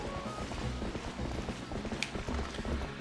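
Epona's hooves clip-clop in a busy rhythm in Twilight Princess HD, mixed with creaking, mechanical game sounds and background music, moderately loud and steady throughout.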